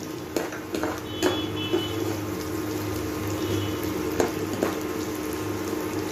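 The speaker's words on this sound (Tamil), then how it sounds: "தேங்காயை மிதமாக வறுத்தால் போதுமானது" Steady sizzling of coconut frying in a pan, with occasional light clicks and scrapes over the continuous crackle.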